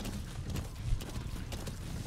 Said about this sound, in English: riding around on D-horse